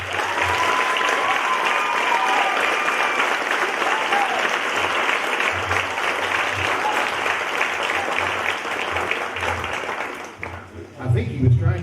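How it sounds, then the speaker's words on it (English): Long, full round of audience applause at a community theater Christmas show, dense and steady clapping that fades near the end as a voice begins speaking over it. "keep your applause going for Mr."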